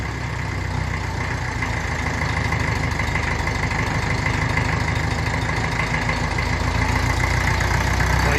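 A 1954 Ferguson 20 TEF diesel tractor engine idling close up, with a loud, steady, rapid knocking chug that holds evenly for the whole stretch.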